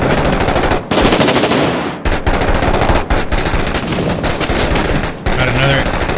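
SAW light machine gun firing in the shooter game Six Days in Fallujah, loud sustained automatic bursts with rapid rhythmic reports, separated by brief pauses, close and dominant.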